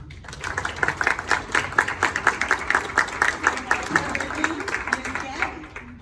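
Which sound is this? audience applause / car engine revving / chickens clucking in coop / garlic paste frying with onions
audience applause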